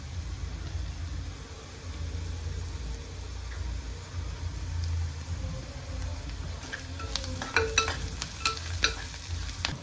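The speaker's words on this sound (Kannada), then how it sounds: "ಇವಾಗ ನೋಡ್ಬೋದು ಉಳ್ಳಾಗಡ್ಡಿನ ಚೆನ್ನಾಗೆ ಬೇಯ್ತಾವು." Onions fry in an oil tempering in a pan for poha, a steady close sizzle with spoon stirring and scraping that grows busier near the end.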